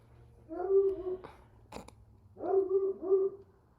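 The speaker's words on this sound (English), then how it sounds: "Doggy." Two bursts of soft, wavering whimpering and howl-like yowls from a dog, close and fairly quiet, with a short click between them and a faint steady hum underneath.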